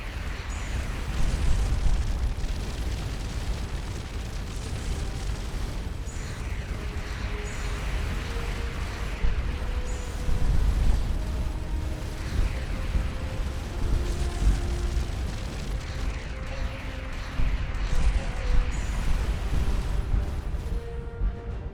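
Missile explosions slam into a spaceship in the video game Starcom Nexus, with heavy rumbling blasts and booms repeating over a continuous droning game soundscape for about twenty seconds.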